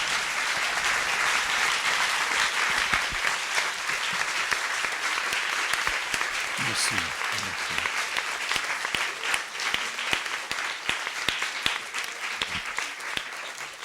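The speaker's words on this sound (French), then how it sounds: "que je vous demande d'applaudir bien fort" A cinema audience applauds a documentary filmmaker after his introduction, with dense, sustained clapping from a large crowd lasting throughout, and someone briefly speaks near the end.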